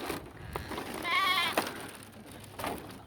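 A goat bleats while being bathed in a river in a rural village, giving one wavering, harmonic bleat near the middle amid running-water and outdoor background noise, with a couple of soft knocks.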